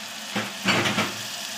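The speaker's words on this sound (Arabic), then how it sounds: "احنا كده بنشوح الكبده اهي نديها تشويحه" Chicken liver sautéing with garlic and spices in a pan: a close, soft sizzle broken by a few quick stirring scrapes.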